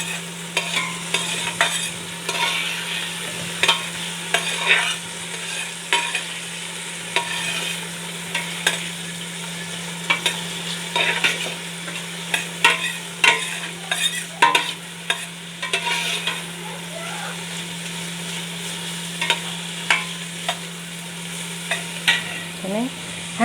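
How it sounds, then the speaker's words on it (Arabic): Cow trotters being sautéed in a pan, with a steady low sizzle beneath repeated scraping stirs from a utensil, close and fairly loud with no talking. "اديها تشويحه كده."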